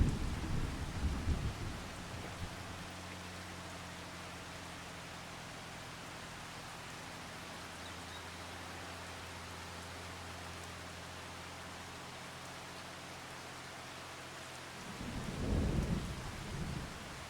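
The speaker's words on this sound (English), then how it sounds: "Really should stop raining any time now." Steady rain hisses throughout a Farming Simulator 25 storm, with low thunder rumbling at the start and again near the end, fairly quiet overall.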